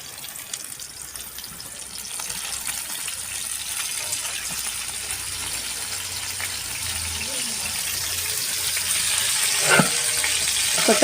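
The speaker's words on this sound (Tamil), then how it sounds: "கொத்தமல்லி சேர்த்துட்டு அதையும் ஒரு மூணு நிமிஷம் நல்லா வதக்கி விட்டுக்கலாம்" Mint and coriander sauté in a pot for a 6 kg batch of mutton dum biryani, giving a steady broadband sizzling hiss that swells gradually, with a brief clank near the end.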